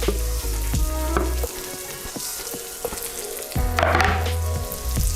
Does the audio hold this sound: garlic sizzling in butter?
yes